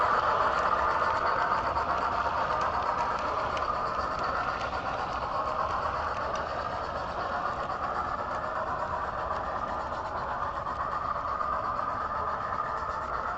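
Model train locomotive sound on a loft layout, a steady rumbling engine drone with a faint rhythmic chuff running continuously and fairly loud, no talking over it.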